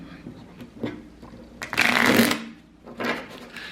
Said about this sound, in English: Of course, I'm not gonna shuffle good when people are watching.